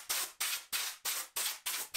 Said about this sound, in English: I blew away any dust using the air blower